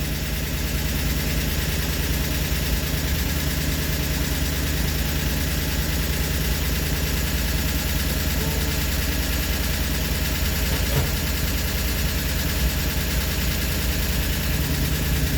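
A 318 V8 engine on a run stand idles steadily at about 1200 RPM, running rich with its headers smoking, a continuous loud, even rumble that holds for the whole stretch with no voices.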